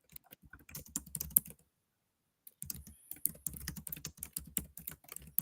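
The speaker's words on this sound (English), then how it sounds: "That typing a song on the keyboard." Rapid clicking keystrokes on a computer keyboard come in quick irregular bursts, close and crisp, stopping for about a second before resuming at the same busy pace.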